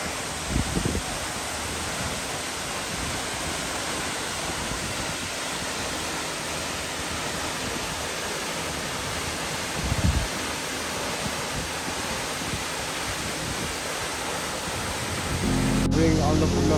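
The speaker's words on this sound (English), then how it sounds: "That one is Chame waterfall." The Chame waterfall on the Annapurna Circuit trek rushes as a steady, broad roar of falling water, continuous and fairly loud, with a brief louder disturbance midway and a shift near the end.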